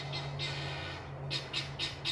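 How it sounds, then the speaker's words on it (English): Guinea fowl squawking outdoors, a burst of harsh calls early on and then a run of four or five repeated grating squawks, fairly close, over a low steady hum. "I don't know if you can hear the birds, but they say hi, hi, hi"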